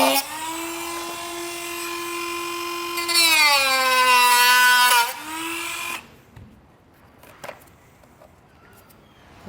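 Power tool trimming a plastic panel on a 2023 Hyundai Palisade during a trailer hitch install: a sharp, high motor whine for about six seconds, dipping in pitch as it bites and rising again, then quiet with a few small clicks and handling noises.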